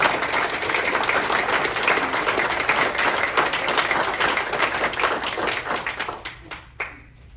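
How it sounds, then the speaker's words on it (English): An audience at a City of Litchfield, Illinois council meeting claps for several seconds, a full even wash of many hands that thins into scattered final claps as it dies away. "How about a round of applause for our travelers?"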